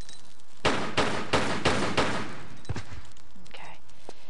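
Five rapid gunshots ring out in quick succession at scorpions in the Tomb Raider 4 video game, followed by a fainter shot and a few softer game sounds, with no talk.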